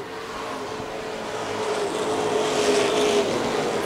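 Pro Stock race cars in a 40-lap night feature on a track make a steady, continuous engine roar that swells gradually louder as the pack comes closer.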